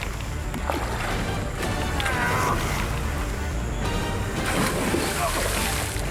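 A large arapaima thrashes in water, throwing up loud, continuous sloshing splashes with repeated surges, close by.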